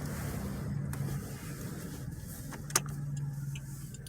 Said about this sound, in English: Got another car coming.